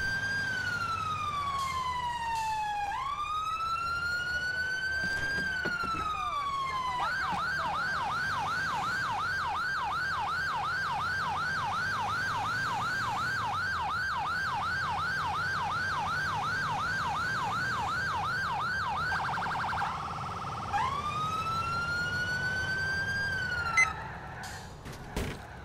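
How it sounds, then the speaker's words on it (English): Fire engine sirens in the video game GTA IV, loud and close, switching from rising and falling wails to a rapid yelp pattern, then back to wails, with engine rumble beneath and a few clunks near the end. "I took on my sirens because, to let the people get out of my way"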